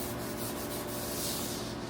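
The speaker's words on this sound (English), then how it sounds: "So I like to take a Scotch-Brite pad and just really wipe it down." A Scotch-Brite pad scrubs the bed bar of a Foley 673 bedknife grinder for reel mowers, a close, continuous abrasive rubbing with faint rhythmic strokes and no speech.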